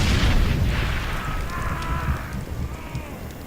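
A normal grenade bursts in the shooter game Far Cry 2, a loud low boom at the start that rumbles and settles into a lingering crackling tail.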